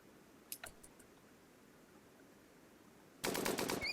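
Burst of rapid gunfire from the colony survival game Rimworld, a few scattered shots early on, then a dense, loud volley near the end over faint background.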